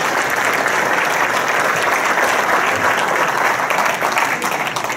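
Sustained audience applause fills an awards ceremony hall for firefighters' valor honors, steady dense clapping from a large crowd throughout, loud and continuous with no break.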